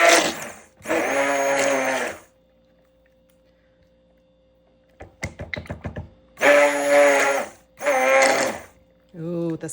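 An immersion blender pulses through pine tar soap batter in three loud close bursts of whirring, separated by quiet gaps and a stretch of clicking and handling noise.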